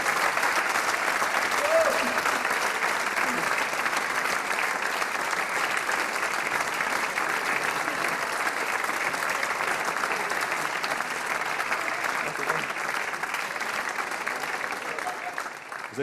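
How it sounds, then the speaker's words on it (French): A theatre audience at a hypnosis show applauds steadily for about sixteen seconds, a dense, even wash of many hands clapping at a moderate distance with no break. "On l'applaudit, mesdames et messieurs."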